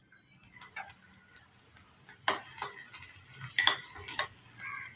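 Chopped onions dropped into hot oil in a home kitchen, crackling and sizzling close up with sharp spatters and the scrape of stirring, quiet between bursts.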